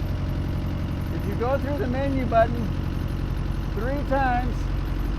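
Reefer trailer refrigeration unit running on diesel, a constant low engine drone and rattle, with a person speaking over it.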